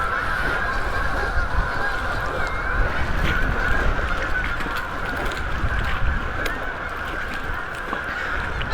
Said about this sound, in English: hundreds and hundreds of geese coming in to land